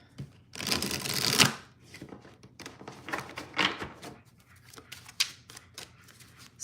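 Tarot cards are shuffled in several quick riffling bursts, with softer slides and taps as cards are pulled, close and fairly quiet.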